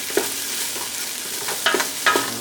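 Garlic and thyme frying in a pot for a vegan black bean stew, a steady soft sizzle with a few brief stirring scrapes near the end, no voices.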